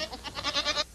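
A goat gives a single quivering bleat, close and fairly loud, with a rapid vibrato pulsing through it for just under a second.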